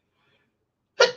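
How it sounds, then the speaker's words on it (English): A single sharp sneeze bursts out near the end of a quiet moment, loud and close, trailing off briefly. "Sorry, I gotta sneeze."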